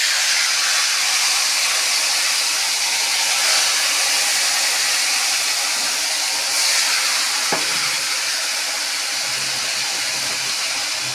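Marinated katla fish dropped into hot oil for a Bengali kalia, throwing up a loud, steady sizzle and hiss that runs unbroken from start to finish, close and with no talking.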